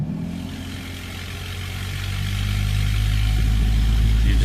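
A Pontiac G6 convertible, revived after years in storage, runs with a rough, unhealthy exhaust, a close, loud low-pitched drone that builds as the idle rises partway through, with no talking.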